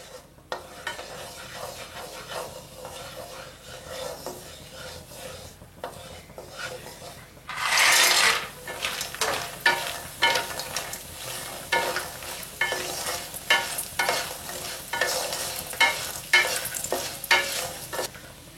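Lentil bori frying in hot oil in a home kitchen pan, a soft continuous sizzle with repeated scraping stirs and rubbing strokes, a louder burst of hiss partway through, close and without talk.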